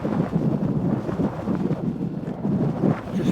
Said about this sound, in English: I would say that wind has just picked up to about 5 or 6 mile an hour.